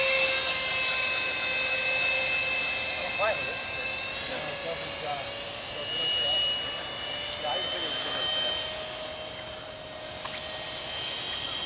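A radio-controlled F-22 model jet with an electric ducted fan flies overhead, giving a steady high-pitched whine that swells and fades slightly with distance as people talk nearby.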